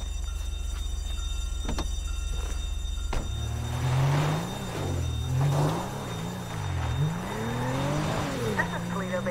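In Grand Theft Auto V, a car pulls away after a short steady engine drone, then revs through rising and falling gear changes with a brief tire squeal, the engine staying fairly close and loud.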